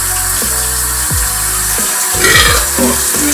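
A loud, low burp rumbles out in several rough pulses, close and clear over warm water running in a kitchen sink.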